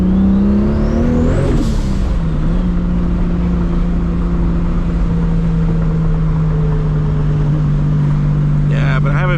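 A 1000-horsepower Toyota Supra engine idles while warming up, a loud, steady low drone with a brief rev partway through, then a settled, unbroken rumble that continues close by until the end.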